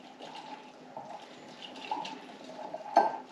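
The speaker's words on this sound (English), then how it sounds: "Okay, then we're gonna stir it." A spoon stirring a cornstarch and water mixture in a bowl, giving soft sloshing swirls and faint scraping throughout, ending with a single sharper clink against the bowl.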